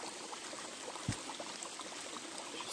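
A small forest stream in the Chaos du Gouët area of Côtes d'Armor flows softly in the distance, a faint even wash of water with one brief low thump partway through.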